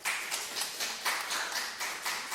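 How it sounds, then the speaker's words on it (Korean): Church congregation clapping in a steady rhythm during a Sunday service, a moderate group of hands beating evenly together, not very loud, with no talk over it. "우리 축하하고 박수 먼저 한번 합시다"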